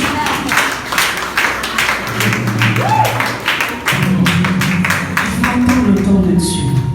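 A church congregation applauds and cheers for the Lord, rhythmic clapping in a steady beat running throughout, with voices and music mixed underneath.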